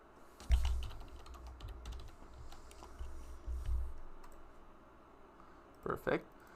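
Rapid keystrokes on a computer keyboard while variables are entered into an Excel spreadsheet, a steady run of close clicks and taps that thins out toward the end, with a couple of louder knocks near the close.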